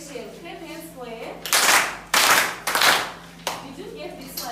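Students in a classroom clap together in three or four sharp, loud, rhythmic bursts, with a teacher's voice heard briefly before and after.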